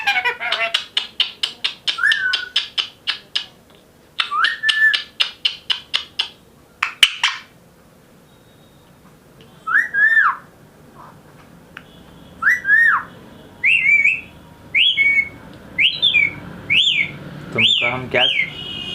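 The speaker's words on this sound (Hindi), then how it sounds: "तुमको हम सीटी मारना सिखा रहे थे?" Pet parrot being taught to whistle at home gives repeated bright whistles and rapid chirping bursts, loud and close, in clusters with short pauses between them.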